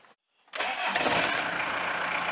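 A diesel car engine, on a neglected wreck of a car, cranks briefly after a moment of silence and catches at once, settling into a loud, steady idle close by.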